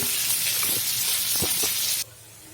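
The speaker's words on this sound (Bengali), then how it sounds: "দিয়ে দিলাম পেঁয়াজ রসুনগুলো ভাজির জন্য" Chopped onion and garlic hit hot oil and sizzle with a loud, steady hiss for about two seconds before it suddenly drops to a quieter sizzle.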